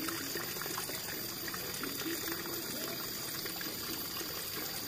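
Clear mountain stream water flowing in a highland countryside area, a steady broadband rushing and trickling wash running continuously and fairly close throughout.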